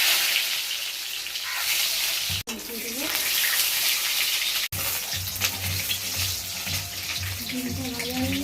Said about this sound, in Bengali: কড়াইয়ে তেল দেবো, ডিমটা ভেজে নেব।